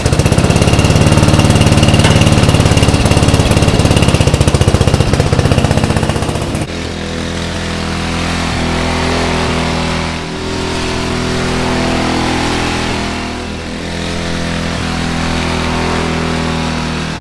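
Riding lawn mower after a rear axle pulley swap, run at full throttle: a loud, steady engine roar that drops sharply partway through, then continues as a lower, fluctuating drone with slight surges.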